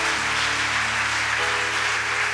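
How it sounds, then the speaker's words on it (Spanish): A church congregation applauds, a dense, steady wash of clapping from many hands that fills the room at an even level throughout. "Que Él se sienta exaltado en una ola de aplausos de gratitud"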